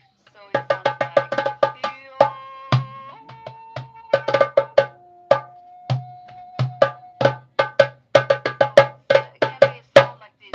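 A voice sings a slow Swiss yodel with long held notes, backed by a steady, regular plucked or percussive accompaniment that keeps a clear beat throughout.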